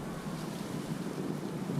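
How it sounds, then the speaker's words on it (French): Strong wind buffeting and roaring across the microphone while flying a Tyro 89 FPV drone, a continuous gusty rush with no voices. "Il y a beaucoup de vent aujourd'hui."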